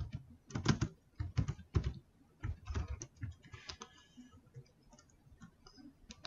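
Computer keyboard keys clatter in uneven bursts while Italian car brand names are typed, loud close clicks separated by short pauses, then lighter scattered taps.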